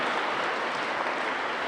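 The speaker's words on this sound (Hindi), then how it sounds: "एक बार पुनः जोरदार तालियों के साथ ये मंच आपका स्वागत करता है।" Seminar audience at an institute claps in a dense, even burst of applause that holds steady and close for a short stretch, with no voices on top.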